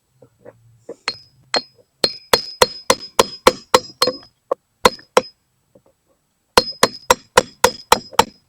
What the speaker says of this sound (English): Got our chisel and we've got our hammer.